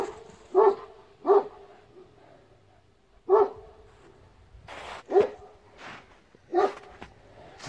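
A young Kangal dog barks outdoors in a series of sharp, separate woofs with short pauses between them, fairly close and clear, with no talking over it.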